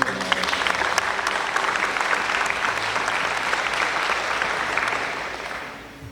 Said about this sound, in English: Please give them a round of applause because we are so very grateful for you.